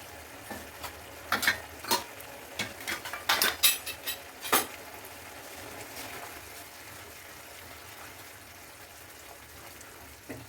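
A spoon stirs a milk-and-cream gravy for Rajasthani gatta curry in a pot, with a burst of close metallic scrapes and clinks in the first half before it settles into a quiet, steady simmer.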